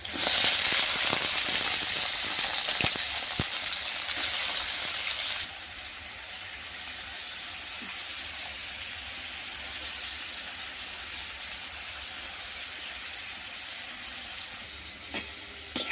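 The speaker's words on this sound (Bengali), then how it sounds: "আলু পেঁয়াজ লঙ্কাটা একটু ভাজা ভাজা হয়ে গেছে" Potato, onion, dried red chilli and green chilli fry in a pan with a bright, crackling sizzle, loud for the first few seconds and then settling into a softer, steady hiss, with no voices.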